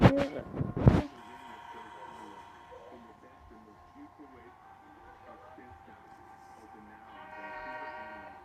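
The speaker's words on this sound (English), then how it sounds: "Here comes the Amtrak." Amtrak train passing nearby, with a loud horn blast at the start followed by steady rumbling of railcars and a sustained tonal horn or whistle, while a voice talks over it.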